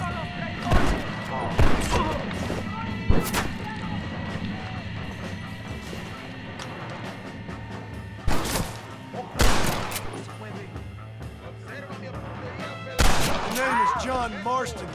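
Gunfire in the Red Dead Redemption video game: several sharp, loud shots burst out at intervals over a steady game background, with voices speaking in between.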